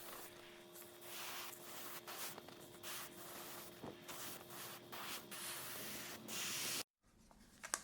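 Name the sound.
airbrush spraying black dye on leather pauldrons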